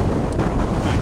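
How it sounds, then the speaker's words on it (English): Strong wind roars steadily across a microphone aboard a boat moored at dusk, a dense, loud, continuous rush with no voices. "It's still pretty windy out there"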